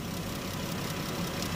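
An idling car engine, Dodge Journey/Avenger, runs steadily to warm up, producing a low, even hum without revving, close by.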